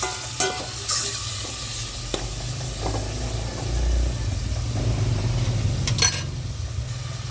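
Chicken sizzles in a hot pan as it is stirred, with a continuous frying hiss, occasional scrapes of the utensil and a low background hum.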